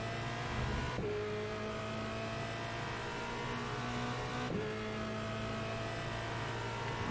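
An open-wheel road course car in iRacing drones steadily at high revs, its engine tone dropping sharply twice as it shifts gears, loud and continuous with no talk.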